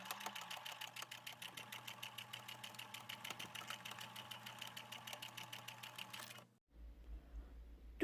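A sewing machine stitches the crown of a reversible bucket hat in a steady, fast mechanical run for several seconds, then stops abruptly, leaving a low hum.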